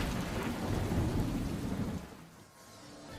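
Steady rain pours during a storm at an outdoor mountain bike race course, with a deep rumble of thunder rolling under it that fades after two seconds, leaving a quieter hiss of rain.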